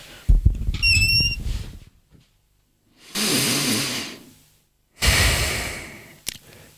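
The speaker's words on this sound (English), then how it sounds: "So here's what diaphragmatic breathing looks like." Slow, deep diaphragmatic breaths in a breathing demonstration: a few audible inhales and long airy exhales, each lasting over a second, close and clear, with no speech.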